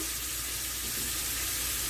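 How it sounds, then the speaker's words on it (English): Sausages frying in a pan during keto meal prep, giving a steady, soft hiss of sizzling fat that runs evenly without pause, close and fairly quiet, with no talking over it. "I've got my sausages going"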